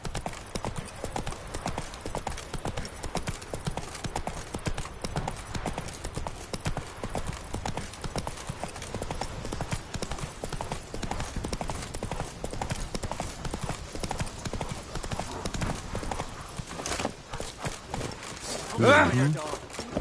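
Horse hooves clip-clop steadily at a riding pace in The Witcher 3, a dense continuous patter close by, with a brief whinny near the end.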